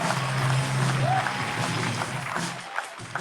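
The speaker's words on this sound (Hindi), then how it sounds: "जोरदार तालियां दोस्तों, प्लीज प्लीज, जोरदार" A crowd at a comedy roast show claps in a steady, dense wash of applause that holds for a few seconds, with a voice briefly audible within it.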